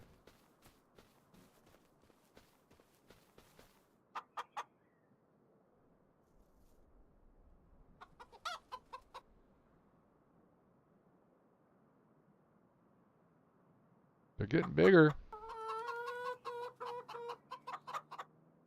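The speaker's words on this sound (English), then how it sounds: "What are my chickens doing?" Chickens on a video game farm in Farming Simulator 25 let out a few short bursts of clucking and one louder squawking call near the end, with quiet footsteps and a soft voice between them.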